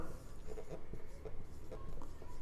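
Marker or chalk strokes on a classroom board during a probability lesson, soft scratchy taps and squeaks spread across the clip under a steady room hum, fairly faint and close.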